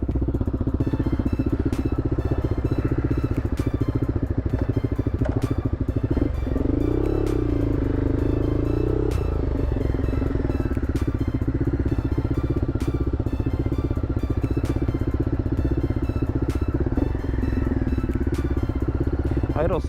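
A Honda Superhawk 996 (VTR1000F) motorcycle being ridden, its V-twin engine droning steadily and fairly close, with a brief rise in revs midway, alongside occasional talk.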